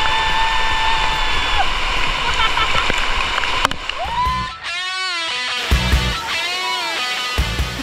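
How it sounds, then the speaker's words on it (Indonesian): A waterfall in the West Java wilds pours in a steady rushing stream with splashing and gurgling, nearby and fairly loud, while a person talks over it in the second half. "Relaksasi alami langsung dari air terjun memberikan sensasi yang menyegarkan."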